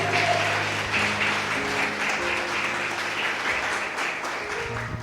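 A church congregation gives a loud, steady round of applause, dense clapping filling the room throughout with a faint voice underneath.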